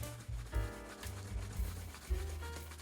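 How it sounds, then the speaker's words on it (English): Brush buffing Saphir shoe polish and wax on a shoe, brisk rhythmic rubbing strokes with soft thumps at each pass, close and fairly quiet. "the moment you start buffing this out, it immediately comes to a shine"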